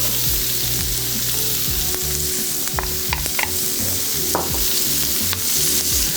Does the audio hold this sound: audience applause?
no